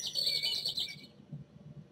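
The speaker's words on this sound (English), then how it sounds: "all you hear is the wind, or all you hear is the bird chirp" Bright bird chirps from a Unity audio mixer sound-effect demo twitter quickly for about a second, then fall away to a faint low background. Nobody speaks.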